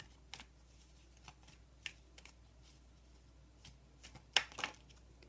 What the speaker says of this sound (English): Each time I'm shuffling, your cards kind of pop out